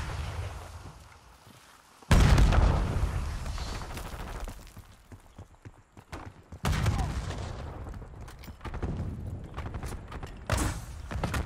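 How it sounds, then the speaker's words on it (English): A frag grenade detonates in Call of Duty Black Ops 6, a loud booming blast followed by a long rumbling tail, with a second heavy burst later amid scattered gunfire and clatter. "Frag going out."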